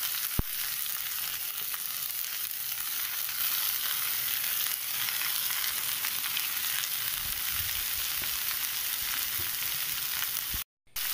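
Grated coconut, green chilli, onion and curry leaves frying in a pan for a spinach thoran, giving a continuous close sizzling hiss that holds steady throughout, with a brief drop near the end.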